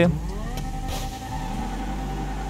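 An SRT Viper's engine revs and roars as a drag race begins in GTA 5, with rising and falling gear whines sweeping through a loud, continuous motor drone.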